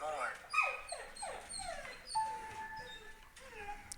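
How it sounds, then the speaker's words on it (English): A dog whimpers and yips in a run of high, wavering whines, fairly faint and close, with a short sustained whine near the end. "My dog is gonna bark."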